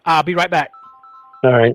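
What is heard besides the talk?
phone ringing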